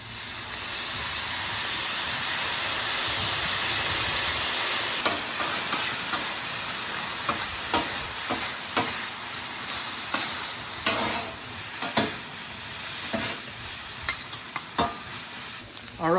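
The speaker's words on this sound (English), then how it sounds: "Start tossing everything together." Fried noodles with shrimp and sauce sizzle loudly on a hot griddle, the steady hiss broken by repeated sharp scraping clatters of spatulas tossing everything together.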